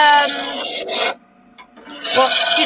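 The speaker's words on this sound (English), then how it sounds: "This is a roughing gouge." A roughing gouge cuts wood spinning on a lathe, making a loud rasping scrape in two long bursts separated by a short lull.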